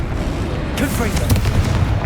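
A Confringo blast spell goes off in a Harry Potter video game, a loud booming explosion that bursts in suddenly partway through and rumbles on beneath a crackling burst.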